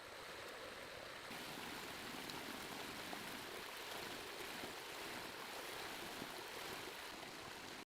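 A forest stream flows steadily and close by, a dense, continuous rush of water with no pauses and no voices.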